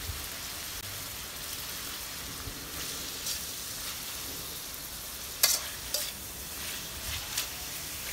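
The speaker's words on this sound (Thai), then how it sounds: "ใส่พริกกระเทียมกะปิที่เราตำให้ละเอียดแล้วใส่ลงไปค่ะทีนี้ก็ผัดต่อค่ะ" Pounded chili, garlic and shrimp paste stir-fried with chicken and kale in a pan, making a steady close sizzle with soft stirring scrapes and a couple of sharper clinks near the end.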